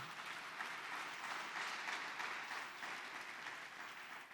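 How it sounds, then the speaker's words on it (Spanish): A church congregation applauds together during a Spanish-language sermon, producing a dense, steady wash of clapping that holds evenly throughout without distinct individual claps. "Dele un fuerte aplauso al Espíritu Santo"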